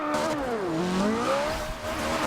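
A Ferrari engine in Forza Horizon 2 screams at high revs against the rev limiter, a steady loud whine that dips and rises again, heard alone without talk.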